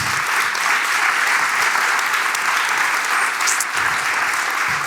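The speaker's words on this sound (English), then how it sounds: "Let's have a round of applause for them once more." A crowd gives loud, dense applause for the speakers at an event, sustained clapping filling the room without a break, a few faint voices mixed in.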